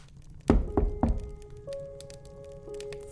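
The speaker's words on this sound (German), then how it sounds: "dann wird das Klopfen rhythmischer und eindringlicher" Knocking from inside a Lego box for a Hogwarts castle: a few dull, heavy thunks close together, then a faint tonal hum lingering after the knocks fade.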